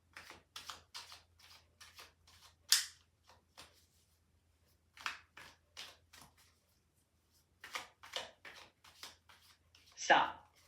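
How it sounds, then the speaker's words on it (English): Playing cards are shuffled in short riffling bursts separated by pauses, close and fairly quiet, with crisp snaps at a few points. "Shuffling now."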